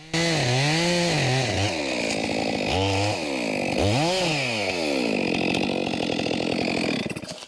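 A chainsaw roars close and loud, its engine rising and falling in pitch as it revs and bites through a big red oak log, running nearly the whole time.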